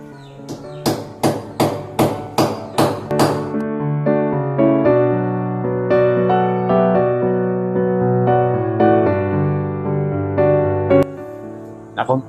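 Hammer blows drive an expansion bolt into a drilled hole during a urinal installation: about eight sharp, evenly spaced metallic strikes close up, followed by a sustained ringing tonal background with a few fainter knocks.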